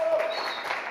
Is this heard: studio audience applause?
yes